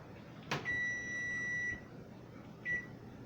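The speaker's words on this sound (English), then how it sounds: "Okay, the timer is fixing to go off and we're going to look." A kitchen oven timer sounds while carb-friendly pizza bakes, giving a steady electronic beep of about a second, then a second shorter beep, clear and close in a quiet kitchen with a clunk just before.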